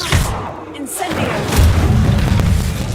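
A fire spell, Incendio, is cast in the video game Hogwarts Legacy: a sharp whooshing burst followed by a roaring, crackling flare that sustains, with a voice speaking just before.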